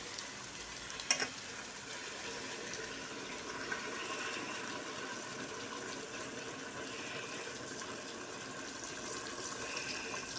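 Water is poured into a pot of sautéed dried beans for a Turkish kuru fasulye stew, a steady hissing sizzle and splash close by, with a brief clink at the start and no talk.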